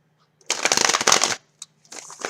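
A deck of cards shuffled at close range during a tarot reading, a dense riffling burst lasting about a second, followed by a brief tap and a few softer card sounds.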